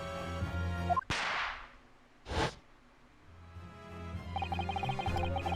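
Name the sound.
Venus Special firecracker going off, from video game The Great Ace Attorney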